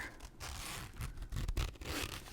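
A zipper on a makeup palette case pulled open in a few quick scraping strokes, close and fairly quiet, with no voices.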